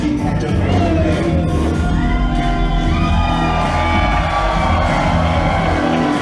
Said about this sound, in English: And the crowd showing their appreciation for Bobby Schink